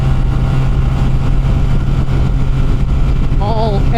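A Honda Rebel 250 motorcycle runs flat out in top gear, its engine a steady loud drone mixed with heavy wind rush throughout, with a brief whining tone near the end.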